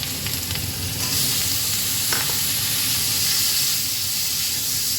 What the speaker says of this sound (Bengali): এটা একটু নাড়া দিয়ে নিয়ে আলুগুলো দিয়ে দিচ্ছি